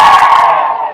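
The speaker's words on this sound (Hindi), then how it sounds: "जो समझ गए वो ताली बजा दो" A crowd at a political rally lets out a short, loud burst of cheering and shouting that fades quickly, with no distinct clapping.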